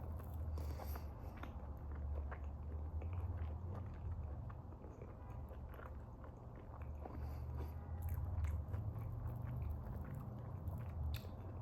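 Close, wet chewing of fufu eaten with spiced goat meat, with soft biting and mashing sounds repeating steadily over a low background rumble, no talking.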